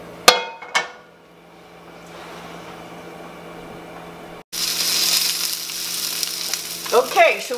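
Food fries in a hot sauté pan with olive oil over a big flame. A couple of sharp clanks come first, then a soft background hiss, and then a loud, steady sizzle begins suddenly and keeps going.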